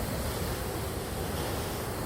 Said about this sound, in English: So it's high tide now. The water's getting close.